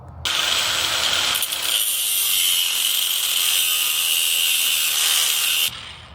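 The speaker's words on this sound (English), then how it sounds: "I'm going to start drilling it to match this hole." A steady, high-pitched whine of a power drill boring through metal on a 2007-2013 Chevy Silverado during a lift kit install, running continuously for several seconds before cutting off abruptly.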